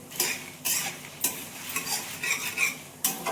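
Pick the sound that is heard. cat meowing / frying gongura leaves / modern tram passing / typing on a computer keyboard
frying gongura leaves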